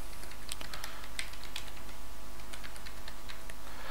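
Steady run of keyboard keystrokes, clicks spaced irregularly over a constant background hiss and hum, moderately close, no voices.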